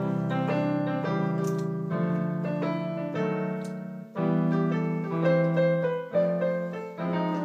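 Solo piano plays a jazzy arrangement of a song in block triad chords over a walking bass line, steady and moderately loud, with no voices.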